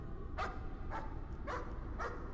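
Dog barking in the horror game Layers of Fear, four evenly spaced barks, faint and somewhat distant over a low background hum, with no talking.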